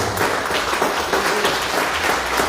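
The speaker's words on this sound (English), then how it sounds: "Let's give the government and people of Barbados a round of applause." An audience at an awards ceremony applauds, a dense and steady wash of clapping from many hands that stays loud and even throughout.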